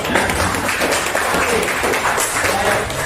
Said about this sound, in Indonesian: berikan tepuk tangan dulu dong